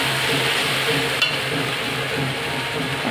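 A ground paste of cumin, chilli and coriander sautés in a pan with a constant dense sizzle, and a single small clink from the utensil comes partway through.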